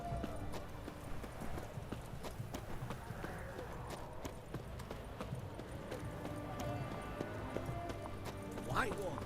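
Horse hooves clip-clop steadily in The Witcher 3: Wild Hunt, in a continuous rhythmic trot at moderate level, with game voices talking over them and a brief whinny near the end.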